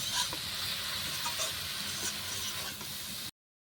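Leafy greens fry in a pan over a clay stove, a close, continuous hissing sizzle with light stirring scrapes that cuts off abruptly.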